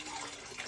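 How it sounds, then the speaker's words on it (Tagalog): Mountain spring water in a rural province, flowing nonstop, gives a brief, even rush of running water with a steady hiss and no speech. "Tubig na 24 hours lang yan natatagas diyan."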